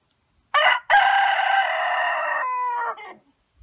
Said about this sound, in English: I think this rooster is gonna want some.